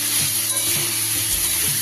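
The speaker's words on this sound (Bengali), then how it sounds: "গ্যাসের ফ্লেমটাকে বাড়িয়ে দিয়ে পেঁপেটাকে আমি একটু ভালো করে নেড়ে নিচ্ছি।" Papaya pieces sizzle in hot oil in a pan over a raised gas flame, a steady close crackling hiss with soft scraping stirs repeating every half second or so.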